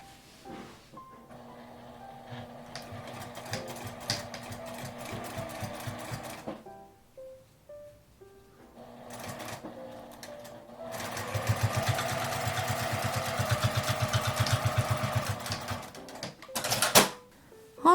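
Sewing machine stitching fabric for a small wallet, running in two steady whirring bursts separated by a pause, close and clear, with a short mechanical clack near the end.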